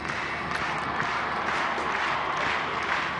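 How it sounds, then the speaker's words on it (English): An audience at the international D-Day commemoration ceremony in Normandy claps along to the Star-Spangled Banner, a dense, steady wash of many hands with a faint beat, heard from a distance across an open-air crowd. "it sounds as though we've got the audience clapping along"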